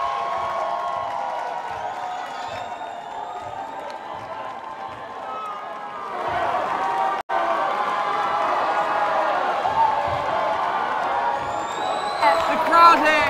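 Spectators at a varsity men's basketball final between Salford and Chester cheer and clap as a steady, dense crowd roar, swelling louder in the second half with scattered whoops and talk mixed in.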